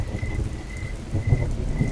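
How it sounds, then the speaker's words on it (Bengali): Steady rain falls in a continuous hiss with low rumbling thunder underneath, swelling slightly toward the end, with no voices. "অনেকক্ষণ ধরে একঘেয়ে সুরে বৃষ্টি পড়ছিল।"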